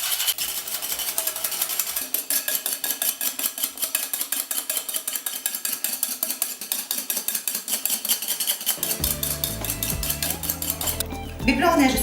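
Egg whites with a pinch of salt are beaten by hand with a whisk in a bowl, a fast steady rhythm of close metallic clicks against the bowl's side that runs nonstop, shifting to heavier clatter near the end.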